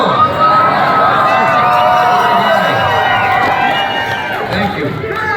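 Large crowd at a political rally cheering and shouting continuously, loud and dense throughout, with scattered whoops and voices mixed in.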